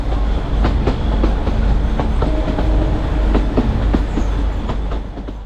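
A heritage narrow-gauge train on the Bilimora to Waghai line runs through forest and villages. Wheels click steadily over rail joints under a loud, continuous rumble.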